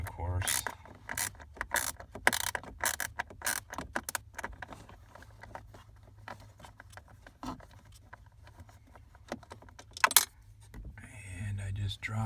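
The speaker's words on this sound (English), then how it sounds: "Now this one you can reach with a regular ratchet" Quick bursts of ratchet clicks as a hand ratchet turns a screw on a 2009 Ford Flex blend door actuator, close and crisp, with pauses and a few louder knocks in between.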